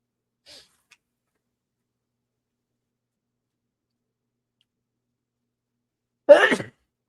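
A single short, sharp sneeze near the end after near silence, preceded by a faint tick.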